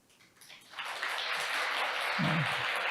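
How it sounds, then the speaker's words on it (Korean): Applause for three presenters at an international economic forum session swells from faint to a steady, full clapping wash in a conference hall, with a brief voice near the end. "끝까지 좋은 발표를 해주시고 토론해 주신 우리 세 분 발제자분께 큰 박수를 부탁드리겠습니다."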